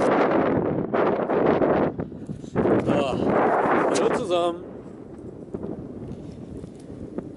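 Wind blows hard into the microphone while walking through open fields, a loud buffeting roar that eases off toward the end, with someone talking over it.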